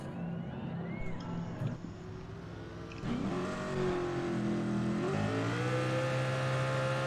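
Video game race cars revving on the grid and launching from the start: layered engine drones that surge and climb in pitch as the pack accelerates away.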